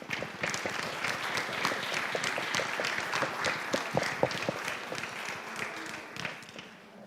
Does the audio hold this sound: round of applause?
yes